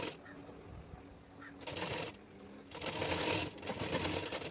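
A sewing machine topstitches the lining of a maxi dress made from an old saree, running in bursts of steady whirring that pause and restart, fairly close and moderately loud.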